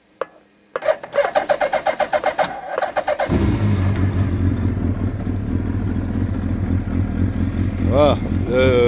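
A starter cranks in quick rhythmic bursts before the motorcycle engine catches and settles into a steady rumbling idle, with a brief rev near the end.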